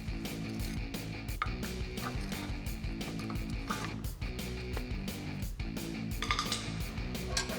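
A pry bar working a brake caliper loose from the bracket and rotor on a Ford F150, producing close, repeated metallic clinks and scraping knocks over a steady background hum.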